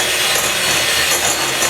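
A scraper works around the sides of a bowl, folding flour into orange cake batter. It makes a loud, steady, close-up rubbing and scraping noise for under two seconds.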